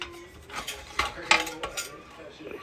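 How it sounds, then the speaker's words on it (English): Metal clatter and clinks as the cover comes off a Predator 212cc small engine during teardown, a few sharp taps and rattles close by over a quiet room. "Then get the cover off."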